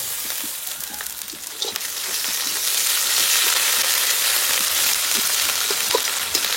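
Ginger paste fries in a pan with a dense, steady sizzle that grows louder and fuller partway through, close by, with no voices.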